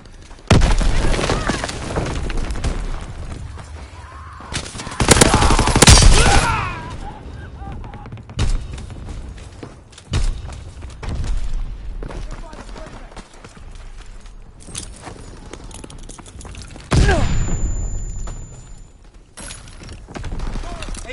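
Gunfire and a grenade blast in a World War II video game: loud, close bangs and a heavy burst around the middle, with more explosive hits later among scattered battle noise and a voice calling out.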